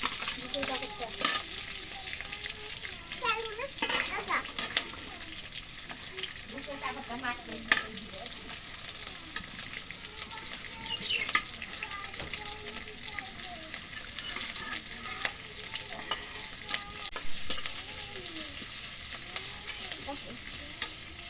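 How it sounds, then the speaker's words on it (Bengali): Chili and onion frying in oil in a home kitchen pan, with a steady bright sizzle and scraping stirs throughout, close up, while someone talks faintly in the background. "না না এখন মরিচ দিলাম পেঁয়াজ দিলাম"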